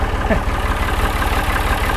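A neighbor's borrowed tractor engine idling close by, a steady low throbbing chug with even, rapid pulses that run unbroken throughout.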